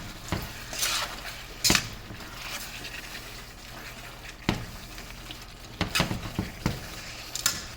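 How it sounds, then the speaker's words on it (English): Mongolian beef with green onion and vegetables being stirred in a pan, with repeated loud scrapes and clinks of a utensil against metal over a steady low sizzle, no voices. "You're going to stir this around."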